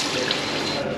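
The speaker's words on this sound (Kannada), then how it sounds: "ಫಸ್ಟು ನೀರು ಹಾಕ್ಕೊಬೇಕು" Tap water running into a sink as it is splashed onto the face during a freshen-up, a steady close rush of flowing water.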